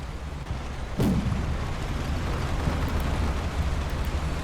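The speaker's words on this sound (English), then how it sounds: "Anti-tank guided missile coming our way. Oh, just hit one of our rear vehicles." An anti-tank guided missile strikes a rear vehicle in the war game Combat Mission: Shock Force 2, a single sudden boom at about one second that rolls into a sustained low rumble and crackle.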